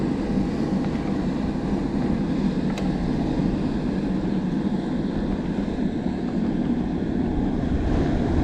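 Waves slapping against a fishing boat out on Table Rock Lake, a steady rough wash of water and wind noise running close and loud throughout, with no voices.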